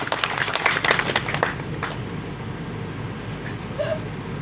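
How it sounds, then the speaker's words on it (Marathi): An audience at a review meeting in Shankarnagar claps, a dense burst of applause for about two seconds that then fades into a low murmur of room noise. "ज्यांनी उमेदवारी माघार घेतली त्यासाठी जोरदार टाळ्या वाजवा."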